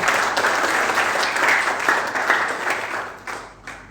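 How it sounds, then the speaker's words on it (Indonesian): A church congregation at a worship service applauds, a dense, even wash of clapping from many people that fades slightly toward the end. "Yang setuju berikan tepuk tangan buat Tuhan kita"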